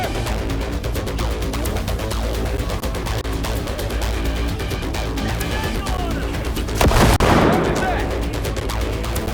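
Dense, continuous gunfire and heavy weapon bursts from a Cyberpunk 2077 firefight, with a loud blast or crash near the end, all set over a thick game soundtrack.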